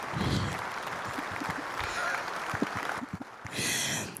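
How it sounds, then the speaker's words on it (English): Applause from a live audience on a cannabis-focused talk show, with a steady wash of clapping that swells, dips briefly, then returns, mixed with scattered thumps and what may be faint voices. "just round of applause."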